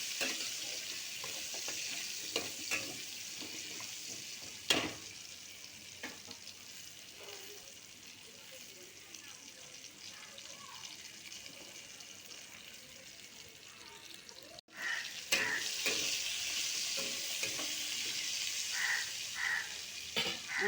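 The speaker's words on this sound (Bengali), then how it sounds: "একটু ভালো করে পটল আর আলুগুলো ভেজে নেব।" Pointed gourd and potato pieces sizzle steadily in an oil pan, with occasional spatula scrapes and stirring clatters, and a louder burst of frying near the end.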